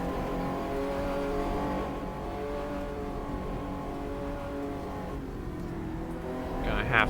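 A 1966 World Sportcars race car in GTR2 on the Targa Florio road course, engine droning steadily at part throttle up a hill, loud and continuous, pitch easing slightly, with a brief sharp squeal near the end.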